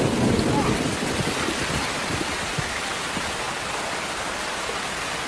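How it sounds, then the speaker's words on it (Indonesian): Heavy rain in a film scene, falling on a man as if following him: a loud, dense, steady hiss of downpour that eases slightly after the first second and then holds evenly. "terjadi fenomena yang sangat aneh ketika hujan seolah mengikutinya"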